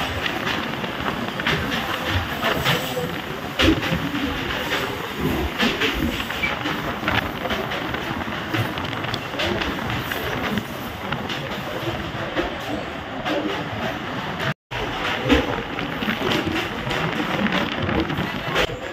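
A suburban train runs through Bally Halt station on the way to Sealdah, a steady loud rumble of wheels and carriages that holds close for the whole stretch, with a brief dropout near the end.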